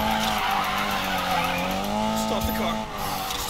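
Tires squeal and skid loudly in Need for Speed Payback, a long sustained screech that bends in pitch over engine roar, with excited voices around it.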